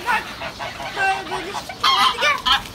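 Geese honk in a series of loud, close, nasal calls, several overlapping bursts in quick succession as the flock takes off outdoors, with no talking over them.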